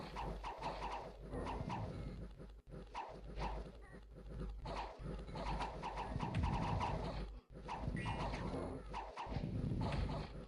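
Trampling units clash in the Dominions 6 video game, a dense, continuous battle din of thudding hoofbeat-like stomps and animal cries that runs loud throughout with brief dropouts.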